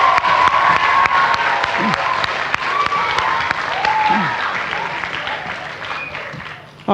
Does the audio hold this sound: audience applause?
yes